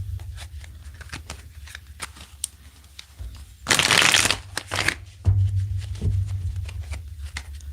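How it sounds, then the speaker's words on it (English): Tarot cards riffle-shuffled repeatedly, several crisp fluttering bursts with soft taps and handling between them, close and clear. "Let's get 3 more shuffles here."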